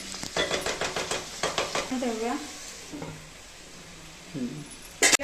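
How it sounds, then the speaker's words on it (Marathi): A pot of Konkani-style chicken dum biryani is stirred, giving a quick run of scraping, clinking strokes followed by softer sizzling and an occasional sharp lid or utensil clank near the end. "तर आता त्याला आपण छानपैकी ढवळून घेऊया"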